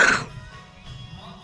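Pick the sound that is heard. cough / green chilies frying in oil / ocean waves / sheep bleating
cough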